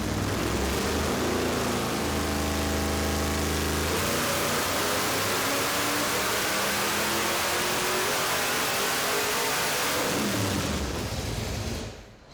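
Blasphemi, a heavily modified race car, screams on a dyno as its engine climbs to 7,000 RPM, a loud sustained rising roar with harmonics sweeping upward, then a sharp cutoff and fading wind-down near the end.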